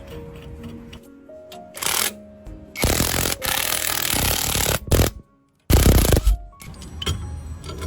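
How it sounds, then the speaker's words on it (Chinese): A hammer strikes the brake disc of an electric four-wheeler during repair to knock it free. A few loud, sharp metallic bangs and clattering bursts stand out close by, with short pauses between them and no talk. "用这个锤子敲2下，这个刹车盘就拿掉了。"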